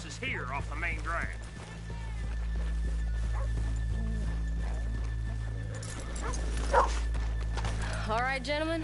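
Horses in the video game Red Dead Redemption whinny and clop about over a low steady hum, with a dog barking briefly and footsteps shuffling nearby.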